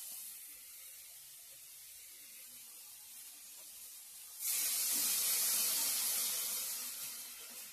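Water poured into egg curry masala in a hot pan, a sudden loud hiss and sizzle that bursts in midway over a quiet background and stays steady before easing slightly.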